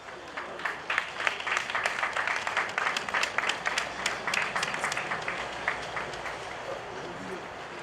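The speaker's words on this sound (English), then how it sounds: "Round of applause for Mr. Stanley Executive." Audience applause at a prison inmate graduation ceremony in Banjul, a steady patter of many hands clapping, moderately distant, with an announcer's voice talking over it.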